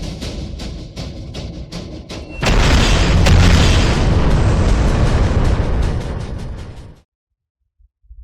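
A series of sharp clicks gives way to a loud, sudden blast from a leftover wartime landmine set off by a firecracker; it roars and rumbles for several seconds before cutting off to silence.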